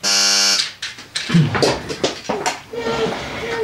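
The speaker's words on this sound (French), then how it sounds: "C'est quelqu'un qui est arrivé, il a sonné à la porte." A loud electronic buzzer-style doorbell rings for about half a second, then muffled voices and household noises follow.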